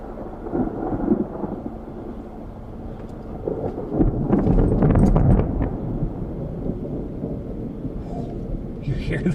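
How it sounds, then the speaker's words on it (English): Thunder rolls after a nearby lightning strike during a storm in New Mexico, a deep rumble building to a loud peak midway and then fading, with wind buffeting the microphone. "We just had lightning strike somewhere close here."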